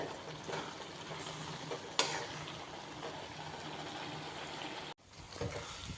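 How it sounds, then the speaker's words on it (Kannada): Carrot halwa being stirred in a pan with milk and sugar, a steady soft scraping and gentle sizzle with one sharp knock, then a brief drop to silence near the end. "ಈ ಥರ ತಿರುಗಾಡಿಸ್ತಾನೇ ಇರಬೇಕು"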